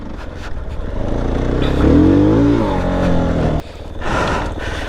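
A Fantic Casa 250 trail motorcycle engine lugs at low revs while plodding straight up a clay climb, giving a steady, deep rumble with no real revving that swells briefly in the middle and drops out for a moment near the end.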